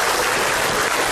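Studio audience applause on an Indonesian comedy talk show, a dense, steady wash of clapping filling the short moment with no voices.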